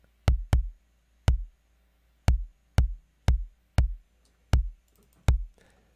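A kick drum played through a compressor, each hit a sharp beater click on the attack followed by a short low thump, about nine separate strikes, close and clear with silence between and no talk.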